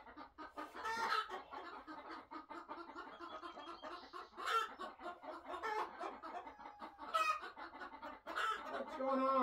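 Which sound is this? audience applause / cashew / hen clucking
hen clucking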